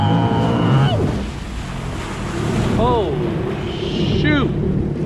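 A 2021 Sea-Doo Trixx stunt jet ski running on open water, its engine droning steadily through wind buffeting and water rush, the pitch swooping up and down as it turns and rides.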